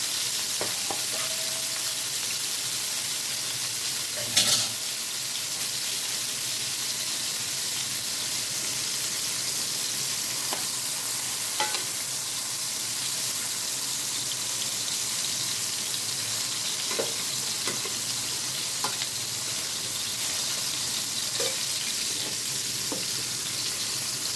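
Pointed gourd (potol) frying in a wok makes a long, steady, hissing sizzle with scattered pops and occasional utensil knocks, one clattering hit near the start, with no voices.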